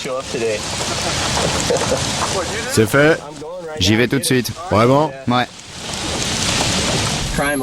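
Steady rain falls throughout as a broad hiss, with several people talking over it in the middle.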